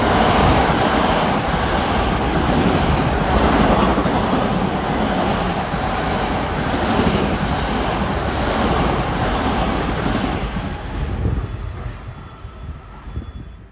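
A Long Island Rail Road commuter train from Ronkonkoma to Penn Station rushes past at Carle Place, a loud, steady roar of wheels and wind that holds for several seconds before fading away.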